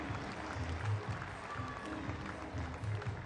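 Crowd in a gymnastics arena at an artistic gymnastics World Challenge Cup applauds, a moderate and steady patter of clapping heard at a distance with a faint murmur beneath.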